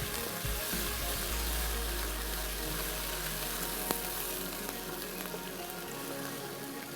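Beef qeema frying in a pan during bhunai, giving a steady close sizzle and crackle with a low hum underneath and no talk.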